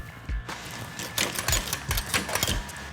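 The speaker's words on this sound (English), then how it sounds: "it's time to crank it over and fire it up" A carbureted car engine being cranked over gives uneven low thumps and whirring bursts that repeat for about three seconds, close and fairly loud, with no talking.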